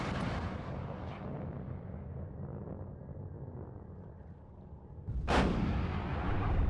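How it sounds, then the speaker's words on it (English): A Leopard tank fires its main cannon in the video game WARNO, one sharp, loud boom that rolls into a low rumble over steady battlefield noise. "Perfect side shot from the Leopard there."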